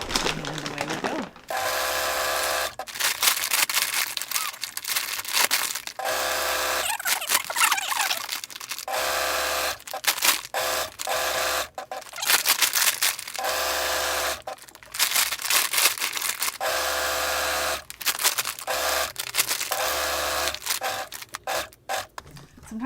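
A sewing machine stitches a tote bag made from a feed sack, running in loud rapid bursts with brief stops and restarts throughout and a rattling mechanical buzz close by.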